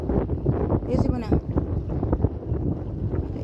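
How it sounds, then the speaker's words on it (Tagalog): Strong wind buffets the microphone with loud, continuous roaring gusts, and a brief voice cuts in near the start. "lakas ang hangin"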